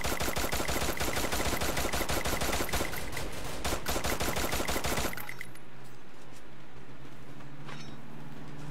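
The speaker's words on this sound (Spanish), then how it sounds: "Por acá hay tiroteo." Rapid, dense gunfire in Free Fire, loud sustained automatic bursts for about five seconds, then cutting off to quiet background with a faint distant shot.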